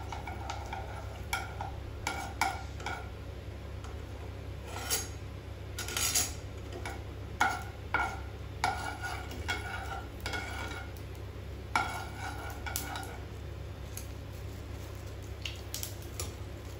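Mustard seeds frying in hot oil in a pan for mango pulihora, with scattered sharp pops and crackles over a low steady hum, several clustered bursts close by and fairly quiet.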